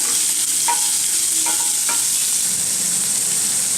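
Finely chopped large onions sizzle and hiss steadily in a hot pan, with a few light clinks of a spoon stirring against the metal.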